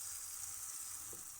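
Small shrimp frying in a pan for kinamatisan, a steady close hiss of sizzling oil that fills the whole moment with no voices.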